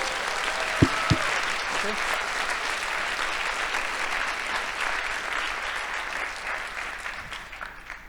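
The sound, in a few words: audience clapping at a keynote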